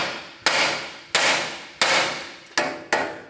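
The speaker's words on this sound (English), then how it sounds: "let's take our hammer and we're gonna gently hit along this area here" Five sharp hammer blows strike the steel steering knuckle of a 2007-2011 Toyota Camry during a wheel bearing and hub replacement, at an uneven pace, each hit ringing briefly before fading, with no voices.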